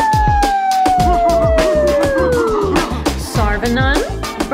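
A dog howls in long, sliding wails over a busy backing of music and a singing voice, loud and close throughout a birthday song.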